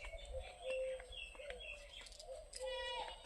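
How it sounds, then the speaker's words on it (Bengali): Small birds chirp and call in short bursts from an orange tree in a rural garden, fairly faint and close, with people talking quietly in the background. "এত পাখি কমলাও খায়"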